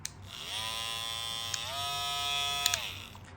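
A VGR V003 two-speed electric hair clipper runs with a steady, close motor buzz, its pitch rising as it switches to the higher speed partway through, with a couple of faint clicks.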